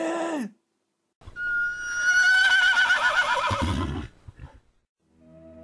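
A loud horse whinny rises and trembles for a few seconds, preceded by a short snort and followed by a faint tone.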